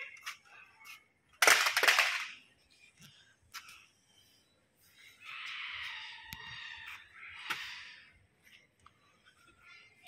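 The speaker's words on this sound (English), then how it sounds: "Oh no, you're shooting a bullet!" A gunshot sound effect in the short film Bloodhell: one sharp, loud crack early on, followed by quieter pops and a shrill, drawn-out cry-like sound, with near silence between.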